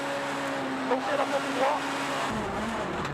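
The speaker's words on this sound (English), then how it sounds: "Listen to that though, on the rev limiter everywhere, geared far too short." A short-geared Lancer Group N rally car blares past while bouncing off its rev limiter during a European Rally Championship stage in Latvia, its engine note stuttering under the commentators' voices with some tyre noise.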